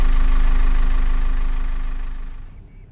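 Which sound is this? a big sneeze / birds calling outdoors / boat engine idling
boat engine idling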